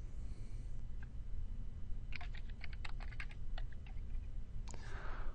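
Typing a username and password on a computer keyboard, a scatter of close, crisp key clicks in short bursts over a steady background hiss, with one more keystroke near the end.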